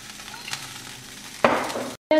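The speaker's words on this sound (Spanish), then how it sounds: "En este fondo de cocción voy a agregar un poco de aceite de oliva" Olive oil hits a hot pan for a beef stroganoff base and breaks into a sudden close sizzle over quiet kitchen background, then cuts off briefly before a faint clink.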